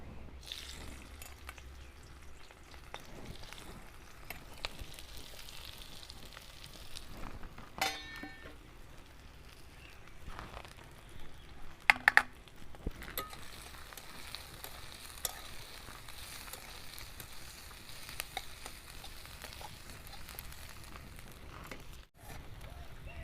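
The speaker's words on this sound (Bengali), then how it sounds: "আমার পেঁয়াজগুলো ভাজা হয়ে গেছে।" Chopped onions sizzle and crackle in hot oil in a pan, a steady frying hiss lasting throughout with a few sharper clicks and knocks of cookware along the way.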